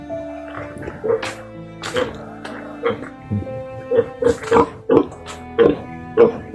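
A large sow gives a series of deep, guttural grunts at close range, irregular bursts spaced a second or so apart.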